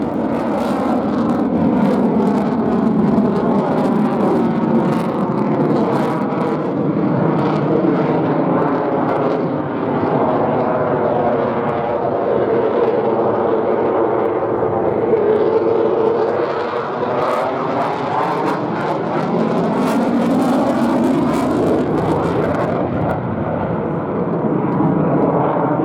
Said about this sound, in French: Le Mirage 2000 peut vous montrer qu'il arrive à voler lentement.